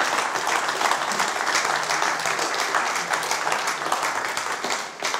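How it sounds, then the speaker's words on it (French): Applause from a conference audience after a presentation, a continuous wash of many hands clapping at moderate volume that holds steady before tapering slightly at the end. "On va évidemment vous applaudir."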